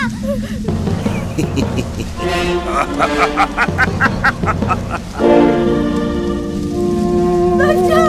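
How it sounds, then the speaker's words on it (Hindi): A storm with heavy rain in a dramatized scene, steady loud downpour and rumbling under raised voices and musical tones, the rain intensifying toward the end. "ये तूफान शांत हो जाएगा।"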